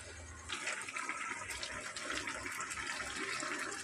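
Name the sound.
pouring pre-mixed water into jujube pickle pot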